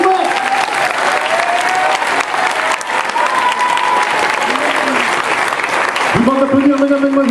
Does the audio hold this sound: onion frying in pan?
no